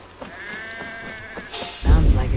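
An unhappy sheep bleats with a wavering, drawn-out cry in Assassin's Creed Valhalla, a video game, followed by louder rustling and thumping game noise, with a voice talking over part of it.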